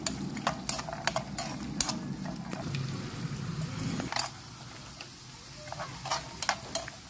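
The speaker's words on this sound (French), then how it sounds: "Et on va faire frire les noix de cajou." Cashew nuts frying in butter in a pan, a soft steady sizzle broken by sharp clicks and taps of a utensil stirring, with the sizzle dropping quieter partway through.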